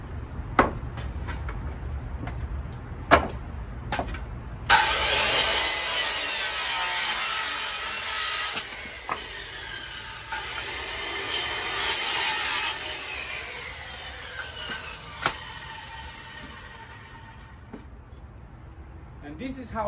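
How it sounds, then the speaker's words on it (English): A handsaw cuts a wooden rafter on a roof framing job, a steady rasping back-and-forth sawing stretch in the middle after a few knocks, with someone speaking around it. "now we can just put our square like this, and now we can cut it"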